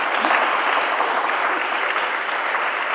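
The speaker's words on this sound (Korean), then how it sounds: "우리 한번 유배희 장로님 힘차게 격려 박수 한번 합시다." A church congregation claps warmly in unison to encourage a recovering elder, a dense, steady wash of applause filling the room without any voices.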